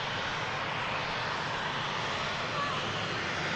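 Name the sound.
aircraft taxiing past at Manchester Airport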